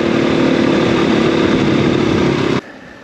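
A KTM 500 EXC-F single-cylinder dirt bike engine running steadily at a loud, close, buzzing drone, then dropping off abruptly near the end to a quieter low rumble.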